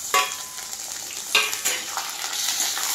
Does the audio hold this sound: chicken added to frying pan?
yes